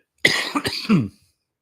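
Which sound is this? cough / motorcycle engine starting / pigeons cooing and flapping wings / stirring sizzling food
cough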